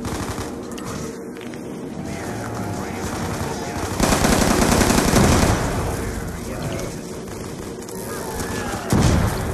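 Sustained gunfire in a zombie survival video game set in a town, a steady rattle that swells louder partway through with bursts near the end, under faint voices.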